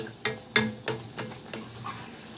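Layered khaja pastry made from flour and sugar frying in oil, a soft bubbling sizzle punctuated by several sharp utensil taps and scrapes near the pan, with no voices.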